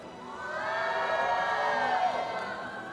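An arena crowd at a Honor of Kings esports group-stage event roars and cheers, swelling into a loud, sustained wall of voices with high shouts and whoops.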